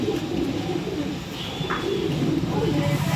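Tumbler pigeons at a sale in Bangalore coo softly among other birds, a brief low murmuring call heard over steady background din and room noise, with faint chirps nearby.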